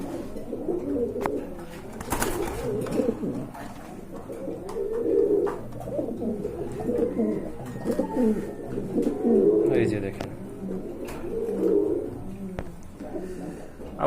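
Pigeons cooing steadily at a busy pigeon market, low rolling coos repeating throughout amid crowd murmur and background chatter.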